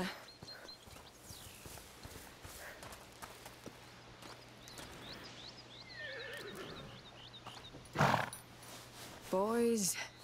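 Horses in the video game A Plague Tale Requiem whinny loudly near the end, with soft hoof clops and ambient game sounds under people talking earlier.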